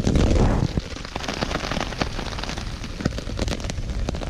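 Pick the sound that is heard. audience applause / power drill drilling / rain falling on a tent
rain falling on a tent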